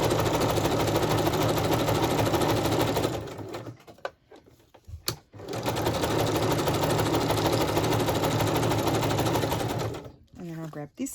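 Sewing machine stitching fabric for tuck spots with flips, a steady loud mechanical whir running nearly continuously with two brief pauses and a short stop near the end, where a voice speaks briefly.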